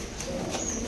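Pigeons cooing inside an old stepwell, a soft low murmuring coo with faint higher chirps, heard in a reverberant enclosed space.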